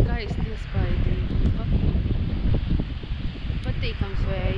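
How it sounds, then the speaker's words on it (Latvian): Steady ocean wind buffets the microphone with a continuous rushing roar, loud and close, while a voice speaks briefly over it. "Patīkams vējiņš ir arī."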